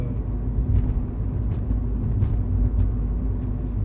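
Toyota Yaris TS 2003 with its 100-horsepower Japanese engine, heard from inside while driving: a steady, low, even drone with road rumble and no talking.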